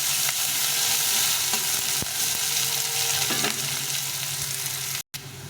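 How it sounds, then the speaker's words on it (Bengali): Onion fries in a pan for a rohu fish curry, giving a steady, close sizzle with faint stirring scrapes throughout and a brief dropout near the end. "পেঁয়াজটা একটু লাল লাল করে ভেজে নেবো"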